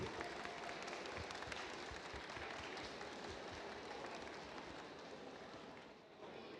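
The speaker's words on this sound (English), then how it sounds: "Let's hear once again one round of applause for the winners of Line Follower Kids." Audience applause for the winners of the Line Follower Kids competition at Robochallenge 2025, a steady, dense wash of clapping from a crowd that holds evenly for several seconds and eases slightly toward the end, with no voices over it.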